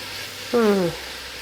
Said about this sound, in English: So I can already smell beautiful aroma of frying onions.